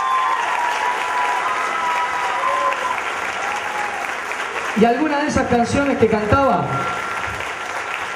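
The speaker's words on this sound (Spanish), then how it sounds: "Un aplauso para mi viejita" Theater audience at Teatro Stella applauds, a steady wash of clapping that stays up as someone speaks over it, with a brief swell of voices near the end before settling.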